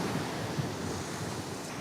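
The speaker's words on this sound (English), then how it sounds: "the strangely wonderful thing about the water and the ocean is that the sound of it differs from place to place" Ocean waves wash steadily onto the shore at Samcheok, Korea, a dense, continuous roar of surf mixed with wind buffeting the microphone, with no voices present.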